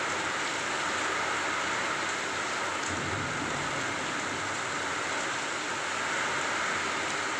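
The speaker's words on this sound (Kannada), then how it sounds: "ಗುಡುಗು ಮಿಂಚ ಸಮೇತ ಮಳೆ ಆಗಾಗತ್ತ ನೋಡ್ರಿ" Steady rain pours down over a village with sugarcane fields, an even, unbroken hiss with no clear thunder.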